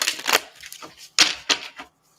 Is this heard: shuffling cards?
yes